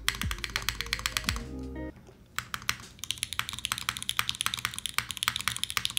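Steady keyboard typing on a Code Geass themed mechanical keyboard, with close, crisp rapid key clacks, a short pause, then renewed fast typing and repeated space bar presses.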